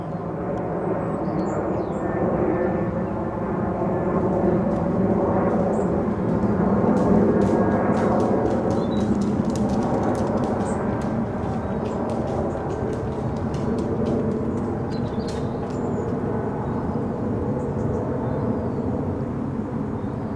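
A Jet2 airliner bound for Mallorca passes overhead, heard from a garden as a steady, broad engine roar that swells slightly midway and holds at a constant level for about twenty seconds.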